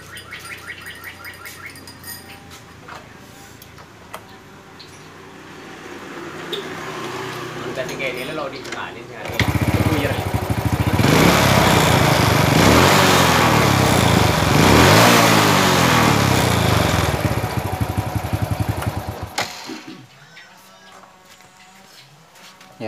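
Motorcycle engine being tested, one with a fault that makes it hard to start on cold mornings and gives uneven throttle. It idles at first, then revs up loud and sustained for about ten seconds before dropping back to a lower idle.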